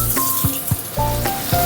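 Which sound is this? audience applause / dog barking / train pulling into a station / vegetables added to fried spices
vegetables added to fried spices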